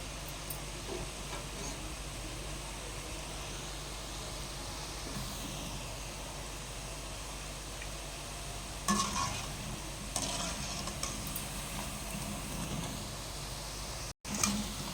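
Gulab jamun balls frying in hot oil give a steady, dense sizzle with soft bubbling crackle throughout, a few louder stirring or scraping bursts partway through, no voices.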